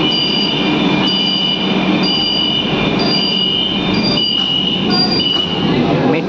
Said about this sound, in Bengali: আজকে কমার্শিয়াল সার্ভিসের সেকেন্ড মেট্রো কিন্তু ছেড়ে দিয়েছে।